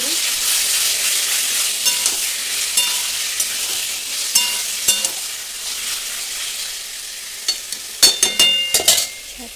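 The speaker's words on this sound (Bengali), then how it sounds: "তো এখানে আমি মাংসটা দিয়ে দেবো" Meat and browned onions fry in oil in a pan, a continuous loud sizzle punctuated by sharp clinks and scrapes of stirring, clustering near the end.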